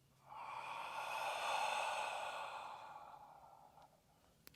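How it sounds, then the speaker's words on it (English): A long, forceful exhale pushed from the throat during a yoga breathwork exercise, a steady breathy rush that swells and fades over about three seconds, close and alone. "From the throat, breathe out."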